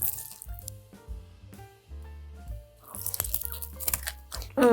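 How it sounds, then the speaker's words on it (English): A crispy baked garlic parmesan chicken wing is bitten into, with a few loud crunches and chewing sounds close up after background music plays. "This wing is so crispy, so flavorful."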